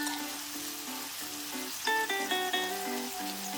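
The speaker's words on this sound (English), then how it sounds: "In a flat pan, add some oil. Once hot, add the tomatoes and sear them on medium heat." Tomatoes sear in hot oil in a flat pan over medium heat, giving a steady, soft sizzle under a melodic tune.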